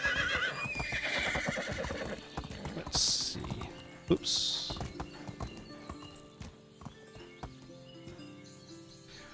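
Horses in the medieval farming game Medieval Dynasty, with hooves clip-clopping and a couple of whinnies near the start, then quieter steps and shuffling as someone talks over them.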